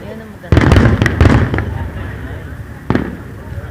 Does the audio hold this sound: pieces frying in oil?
no